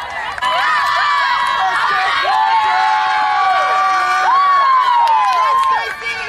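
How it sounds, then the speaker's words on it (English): Spectators on the sidelines of a women's college ultimate frisbee regional final cheer loudly, with sustained shouts and high-pitched whoops from many voices carrying close and continuous. "a lot of cheering from the sidelines"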